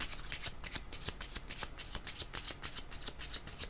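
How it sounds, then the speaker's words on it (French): Tarot cards riffle and slap in quick, rhythmic shuffling strokes, crisp and close, repeating steadily throughout without any voice. "Je vais demander une carte directement sur comique."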